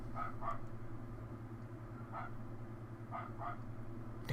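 A dog in the video game The Banner Saga gives a few short, moderately quiet barks and yips in scattered pairs over a steady low droning background.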